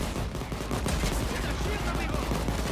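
Sustained gunfire from police attacking in the heist game Payday 2, a dense, continuous barrage of overlapping shots and bursts throughout, loud and close with no pauses.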